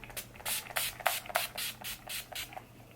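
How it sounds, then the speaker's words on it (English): Urban Decay All Nighter setting spray mists out in about nine quick, even hissing bursts from close by, each puff short and crisp with brief gaps between. "I'm gonna go in with my Urban Decay. This is the all-nighter."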